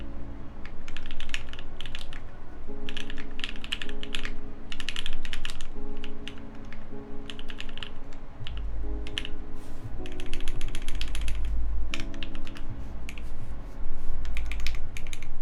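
Typing on a custom Bauer 2 mechanical keyboard with Tangerine switches: bursts of rapid close keystrokes in uneven clusters, with brief pauses between runs and a few louder thocks.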